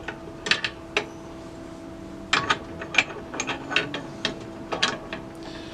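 Metal shift tower parts being handled as a shaft is set in, a series of sharp close clicks and ratcheting clacks in irregular bursts over a faint steady hum.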